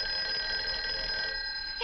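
An old-fashioned telephone bell rings in a home, a steady metallic trill that is loud and close, heard alone with no talking over it.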